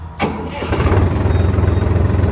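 A Solis 50 tractor engine cranks briefly and catches, then settles into a loud, steady, throbbing idle close by, with no talking.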